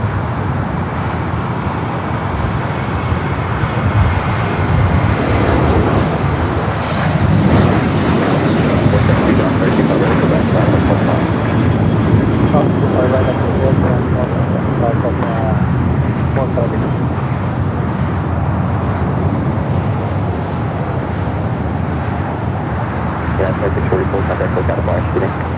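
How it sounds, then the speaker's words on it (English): A Boeing 737-800, flight 2644 bound for Monterey, departs LAX with a loud, sustained jet roar that rises and falls gently, while a person talks over the engine noise. "The flight was heading to Monterey, flight 2644 at 737-800."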